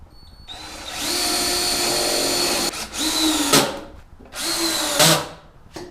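A power drill bores pilot holes into the top of a wooden wall-hung coat rack, with two long whining runs that rise as the bit bites, then a brief final burst, close and loud.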